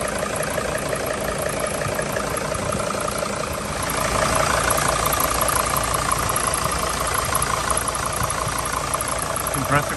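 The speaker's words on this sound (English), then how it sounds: "Compressor clutch is definitely running down there" T1N Sprinter van diesel engine idling with the AC compressor clutch engaged, a dense steady clatter and hum with a slight rise in level around four seconds, heard up close under the engine bay.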